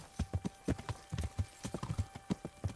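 Horse hooves clip-clop at a steady riding pace in the medieval game Kingdom Come: Deliverance, a close, regular four-beat clatter of distinct thuds with no talk over it.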